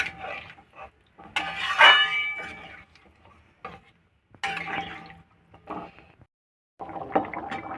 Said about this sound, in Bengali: এবারে জল দিয়ে দেবো পরিমাণ মতন।